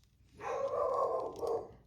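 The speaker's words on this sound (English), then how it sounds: "Don't mind Angel, I don't know what she's barking at out back." A dog barks once or twice from out back, a short muffled burst heard at a distance with no talk over it.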